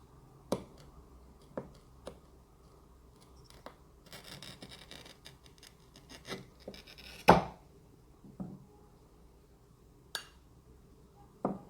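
Cutting along the curved section of a broken china plate, scattered sharp clicks and snaps with a burst of scraping grind and one loud crack, close and without talk.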